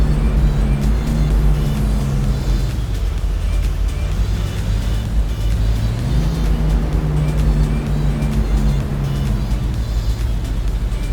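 Lamborghini Huracán Performante with a tuned exhaust at high speed at night: a loud, steady engine drone that rises and falls in pitch as the car shifts through gears, continuous and close throughout.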